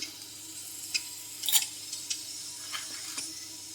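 Fenugreek seeds, mustard seeds and urad dal sizzle softly in hot oil, a faint low crackle with a few scattered pops and stirring taps.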